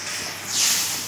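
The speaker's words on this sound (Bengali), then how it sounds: "ভাজা আলু, জল দিয়ে দেওয়া হলো" Water is poured onto fried potatoes in a hot pan for a raw-mango fish curry. A soft, breathy hiss swells briefly midway and then eases, with no voices over it.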